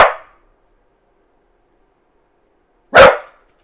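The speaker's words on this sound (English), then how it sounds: "Stop barking." A dog barks twice, close and loud, one sharp bark at the start and another about three seconds later, with silence in between.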